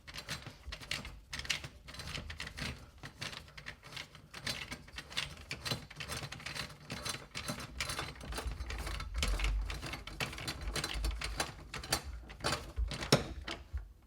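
Screws being tightened down on a bathtub's rubber flange seal during tub installation, a quiet run of dense ratcheting clicks and small mechanical rattles, fairly close and continuous, with no talk.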